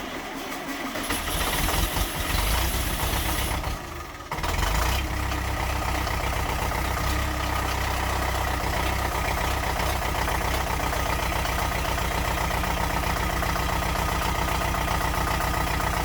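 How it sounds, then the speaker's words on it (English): A Massey Ferguson FE35 tractor engine, restarted after ten years out in harsh weather, cranks briefly then catches and runs with a steady, throbbing, close diesel idle that continues without voices. "after I bled the fuel system properly, the tractor started right up. It sounded fantastic at this point to me."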